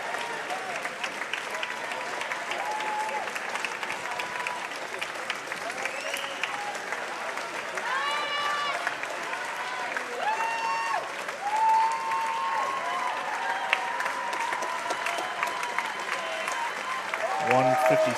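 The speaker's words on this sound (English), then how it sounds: "And the crowd getting behind Devontae Lewell as he heads for home." A crowd at a boys' high school state swimming final applauds and cheers steadily throughout, with a commentator talking over it and the cheering swelling near the end.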